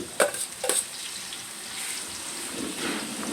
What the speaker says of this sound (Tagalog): Lalagyan na natin yung bawang na rin sa sibuyas. Tapos kasamang luya.